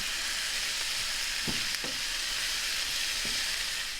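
Chopped zucchini cooks down in a pan with onion, garlic and pepperoni, sizzling steadily while a few clear scrapes and stirring knocks cut through, close up and with no voices.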